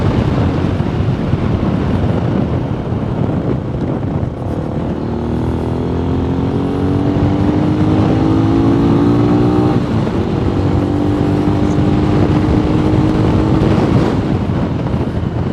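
An MGB ATX-T 125 single-cylinder motorcycle is ridden on the road. The engine drones and climbs in pitch as it accelerates, heard close under constant wind roar against the microphone.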